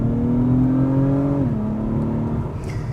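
Acura TLX Type S in Sport Plus pulling hard on a backroad, a loud, steady engine note climbing in pitch before a gear change drops it, then rising again, heard close from inside the cabin.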